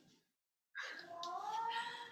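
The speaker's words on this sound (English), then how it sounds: "Calcifer, please stop meowing" A cat meowing close by, one drawn-out rising and falling meow after a brief faint sound and a short silence, fairly quiet.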